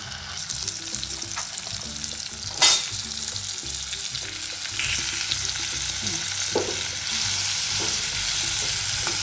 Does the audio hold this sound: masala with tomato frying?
yes